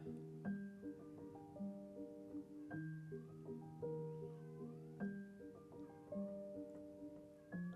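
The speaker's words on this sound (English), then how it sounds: "I can hear a cat here at the moment meowing." A cat meows repeatedly, a series of drawn-out, pitched cries spaced a second or two apart, fairly close and alone.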